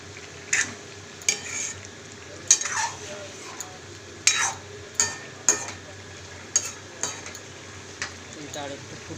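A pot of chickpea and potato curry with garam masala, stirred with a spoon: repeated scrapes and clinks against the pot at irregular intervals over a soft bubbling bed.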